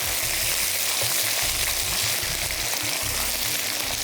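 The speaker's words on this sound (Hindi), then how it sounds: "अब ऑयल गर्म हो चुका है तो हम इसमें भिंडी शामिल करेंगे।" Okra fries in hot oil, giving a steady, close, continuous sizzle and crackle with occasional stirring, and no talk over it.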